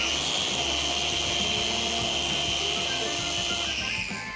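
Dual action polisher buffing a car's paintwork with a pad and compound to remove scratches, a steady close whirring motor hum with faint rhythmic pulsing, running alone without talk.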